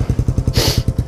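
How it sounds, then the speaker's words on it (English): A Kawasaki KLR650 dual-sport motorcycle idling low on a cold, snowy day, its single-cylinder engine thumping in a steady, loud, close pulse with a brief hiss partway through. "It's all idling really low, but it might just be because it's really cold"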